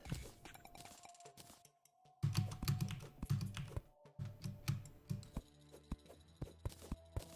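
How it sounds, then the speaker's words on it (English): Rapid typing on a computer keyboard during a dungeon game playthrough, with dense clusters of quick key clicks and taps in irregular bursts, fairly close and moderately loud, with no talking. "That's some fast typing."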